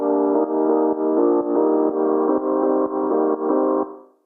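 A layered piano patch built with the FL Keys plugin plays a sequence of sustained chords, each restruck in a steady rhythm, bright and close, with no talking, before cutting off at the end.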